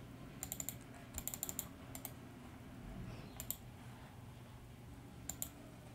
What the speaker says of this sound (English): So let me type it in correctly.